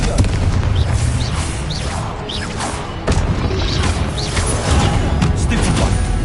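Confringo fire spell blasts in Hogwarts Legacy come as a dense run of booming, crashing impacts over continuous loud combat noise, with whooshing swells and a sharp hit near the middle.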